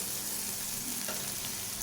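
Egg curry with chopped coriander leaves fries in a pan with a quiet, even sizzle and soft stirring, faint and steady, and no talk.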